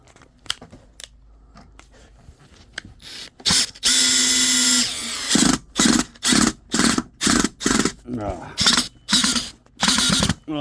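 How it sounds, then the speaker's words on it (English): A sub compact drill drives a bulk screw whose head is not fully dished. After a quiet start, one long whirring run is followed by a quick series of short, close, loud bursts. "even though it's a bad screw that's not fully dished, it still drives it"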